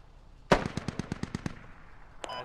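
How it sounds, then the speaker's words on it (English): Automatic gunfire in the video game Squad: a sharp opening shot followed by a rapid burst of about nine evenly spaced rounds, loud and close, then a fainter distant shot trailing after, with no talk. "He's shooting down the road."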